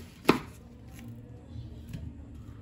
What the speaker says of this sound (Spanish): Y vamos a partir la cebolla.